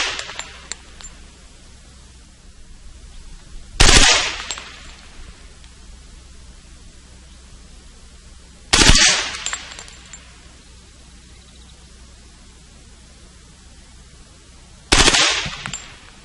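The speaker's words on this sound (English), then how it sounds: "This is the HK UMP 45 caliber, the same as the other one on the table, but this has a sound suppressor attached to it." An HK UMP .45 caliber submachine gun fitted with a sound suppressor fires three separate sharp shots several seconds apart, loud and close, each a short burst-like crack over quiet outdoor background noise.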